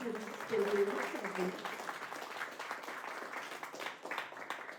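Church congregation at a Brazilian Christian gathering applauding the sisters, a quiet and fairly distant spread of clapping with a voice talking over the first part.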